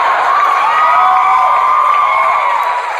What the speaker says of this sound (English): Notice it's girls cheering.